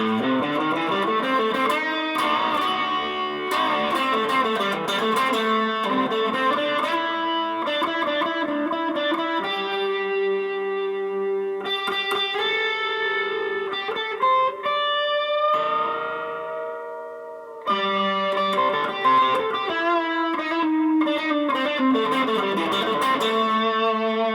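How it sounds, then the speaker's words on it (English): A Tease Guitars ST 1 Strat-style electric guitar drenched in delay, chorus and distortion, playing sustained chords and melodic lines that ring and repeat, loud and continuous with a brief drop near the end. "This is a delay, chorus, and distortion."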